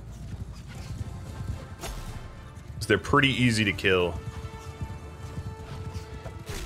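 Horses gallop in a Mount and Blade Bannerlord battle, a steady clip-clop of hooves with a brief whinny, continuing under a voice.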